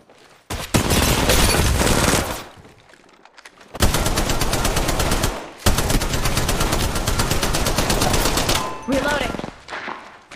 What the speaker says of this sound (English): Popping rounds.